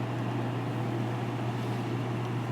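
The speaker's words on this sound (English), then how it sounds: "Turn on the fan just for now. I love how quiet these WCIs are. That's on high." A wall-mounted room air conditioner runs its fan on the high setting, a steady, even whoosh with a low constant hum throughout and no other sounds.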